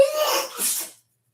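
A single sneeze, a short sharp burst of breath and voice that fades quickly into silence.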